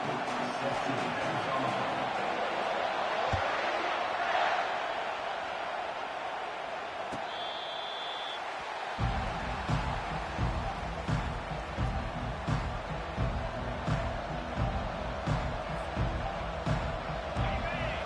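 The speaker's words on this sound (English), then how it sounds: "It's early, but this crowd is fired up. Listen to this noise here." Steady crowd roar from a large football stadium gathering around kickoff, loud and continuous, swelling into a denser rumble partway through.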